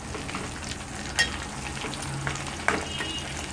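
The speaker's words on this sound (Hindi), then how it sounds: "मैंने फ्लेम को मीडियम कर दिया है और मैं इसको अभी फ्राई करते जा रही हूँ।" Goat fat fries over a medium flame in a continuous soft sizzle and crackle. Two faint utensil clinks rise above it, with no speech.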